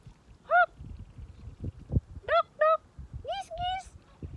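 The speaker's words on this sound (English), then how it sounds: "Geese." Geese along a tidal shoreline honk in short, loud, separate calls, a single honk followed by several in quick succession, over a low rumbling background.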